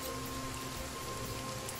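A rain spell cast in the video game Divinity Original Sin brings a steady, close wash of rainfall hiss with a faint sustained tone under it.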